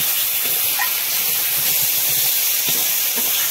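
Tomatoes hit hot spiced oil while cooking a pomfret fish curry, giving a loud, steady, unbroken sizzling hiss throughout, with faint clinks of utensils underneath.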